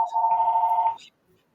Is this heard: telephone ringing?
yes